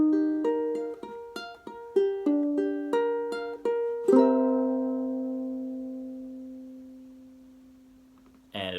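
Plucked ukulele chords follow a four-chord pattern in an even, rhythmic strum, then the final chord rings out alone and slowly fades.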